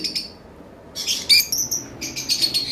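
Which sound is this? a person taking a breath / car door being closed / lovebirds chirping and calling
lovebirds chirping and calling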